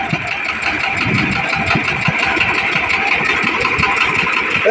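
A tractor engine idles close by with a steady, rumbling mechanical chug that runs unbroken throughout, its note holding even with no revving.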